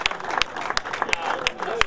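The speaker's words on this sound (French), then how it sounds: "Allez, on les applaudit." Scattered clapping from a crowd at a motor racing podium ceremony at Spa-Francorchamps, with distinct claps in a loose rhythm under a voice talking over them.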